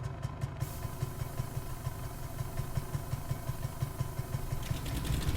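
The rear engine of a Marchetti flying boat in Microsoft Flight Simulator turns over and settles into a steady rhythmic idle, its low chugging pulses holding even and growing slightly louder toward the end.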